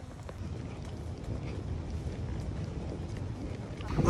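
Strong wind at a Hawaii lookout buffets the microphone with a steady, low, rumbling roar that swells toward the end, with no talk.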